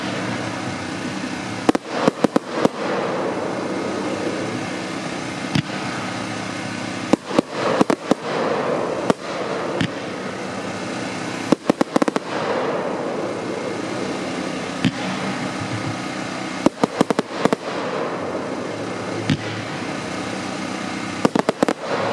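A 49-shot fireworks assortment cake fires outdoors, with repeated loud bursts and crackling shots in irregular clusters over a steady background hiss, each launch sharp and close.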